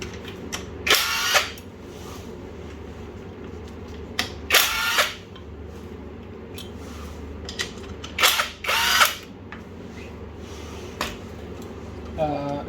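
A power tool whirs in short bursts while removing 10mm bolts and a nut from a bracket near the fuel pump on a 2.0 HDI diesel engine during a teardown, with quiet gaps and handling noise between loud, close bursts.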